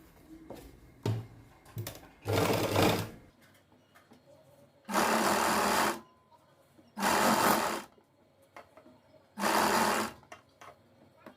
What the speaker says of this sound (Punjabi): ਨਾਲ ਨਾਲ ਸਲਾਈ ਲਾ ਲਾਂਗੇ ਪੁੱਠੇ ਵਾਲੀ ਸਾਈਡ